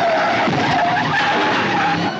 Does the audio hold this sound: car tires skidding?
yes